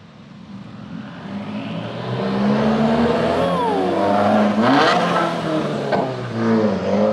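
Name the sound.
car engine revving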